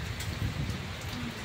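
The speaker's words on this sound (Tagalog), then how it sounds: "Umuulan na naman." Light rain falls steadily, a soft, faint hiss of drops pattering on surfaces with no voices.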